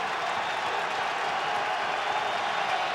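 A stadium crowd of Patriots fans at an NFL game roars in a steady, dense wash of cheering and applause that holds without pause, loud and continuous.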